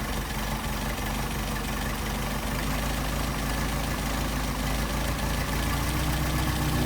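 An engine with a Solex carburetor idles steadily under test, a close, even low rumble holding a constant tone for several seconds with no voices over it.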